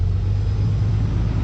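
A Cummins diesel pickup engine with a 68RFE transmission holds a steady high idle, a loud, even low rumble with a constant droning hum and no change in pitch.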